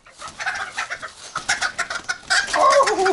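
A rooster clucks close by in a quick, uneven run of short calls, ending in a louder, drawn-out squawk, with no talking over it.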